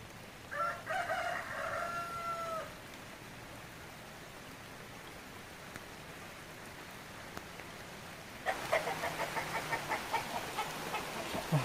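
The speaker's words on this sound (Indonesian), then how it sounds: "Masih hujan ya." Steady rain falling over a hillside village, a soft continuous hiss with patter growing louder and denser toward the end, and a rooster crowing loudly nearby near the start.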